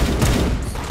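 Dense, loud video game gunfire from a Roblox-style aim-trainer raid, a continuous roar of overlapping shots filling the whole moment with no pause.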